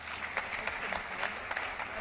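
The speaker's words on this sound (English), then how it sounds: "please give the two a round of applause" Brief, steady audience applause for two panelists at a girls in ICT session at the Transform Africa Summit in Victoria Falls, a moderate wash of clapping from a room-sized crowd.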